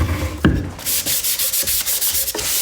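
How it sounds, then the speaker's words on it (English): Light sanding of milk-painted furniture to knock off loose chips: a bump, then a run of short, even rubbing strokes in steady rhythm, close and clear with no talk. "So I'm just lightly sanding to remove any of the loose"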